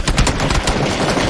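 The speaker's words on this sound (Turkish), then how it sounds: "kendi adamını vuruyor Ford" Rapid automatic gunfire bursts from a PUBG match in a 50 vs 50 game mode, a dense stream of close, loud shots with no pause.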